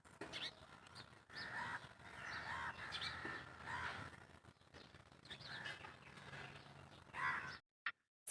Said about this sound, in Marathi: छान असा पक्ष्यांचा किलकिलाट